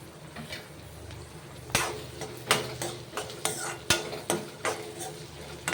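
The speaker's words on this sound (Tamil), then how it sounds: "ஒரே ஒரு தக்காளி பழம் குட்டி குட்டியாக வெட்டியிருக்கேன், இது போட்டுடலாம்" Chopped tomato tipped onto sautéed onions for a fenugreek-leaf dal, followed by a run of sharp spoon knocks and scrapes against the pan as it is stirred, over a soft sizzle.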